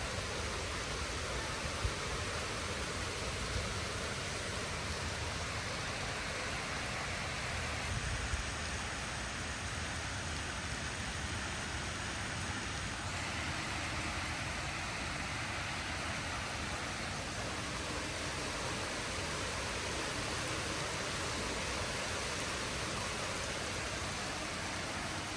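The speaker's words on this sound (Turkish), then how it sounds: "Yağmurun sesini dinleyelim." Steady rain falling, a constant soft hiss of drops on surfaces with occasional faint taps, no voices.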